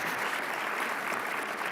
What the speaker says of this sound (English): But another round of applause for someone who's truly a historical figure with us tonight.